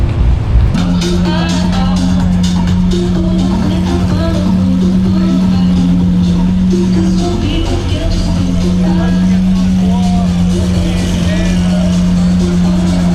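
A Lamborghini Aventador SVJ idles while standing still in a car park at a trackday, a loud, steady low engine drone with a constant hum and rough burble, with people talking nearby.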